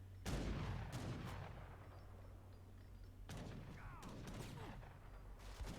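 Skirmisher musket volleys crack in an Age of Empires III match, bursts of overlapping gunfire with booming impacts recurring across the stretch, loud against a constant low game hum.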